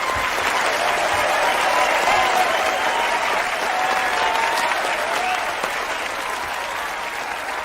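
Studio audience at a television talk show applauds steadily, a dense sustained wash of clapping that holds for the whole stretch and tapers slightly near the end.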